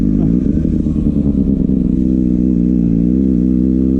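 Kawasaki Ninja ZX-6R motorcycle engine revving during wheelie practice, a loud, close, throbbing note that wavers slightly in pitch and holds continuously for the whole stretch.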